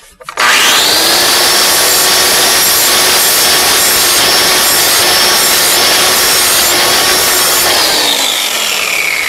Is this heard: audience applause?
no